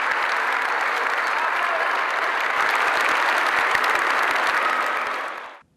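Enthusiastic audience applause at an annual dance show in Dubrovnik, a dense, steady wash of clapping from a large crowd lasting several seconds before cutting off abruptly.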